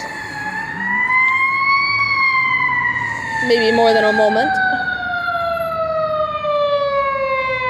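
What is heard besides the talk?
fire truck siren passing by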